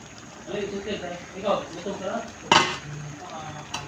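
Malunggay leaves go into a cooking pot for ginataang gulay with buwad, giving a sharp metallic clatter and rustle about midway, with softer utensil clinks around it and a person talking throughout.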